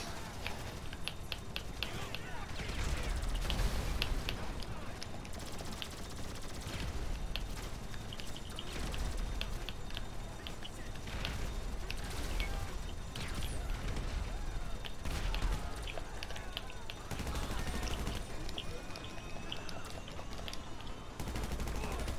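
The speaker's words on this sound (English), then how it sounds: "Okay, I'm pulling out the MG." Sustained automatic gunfire from a machine gun in Grand Theft Auto V, dense rattling bursts continuing throughout at steady loudness amid game noise.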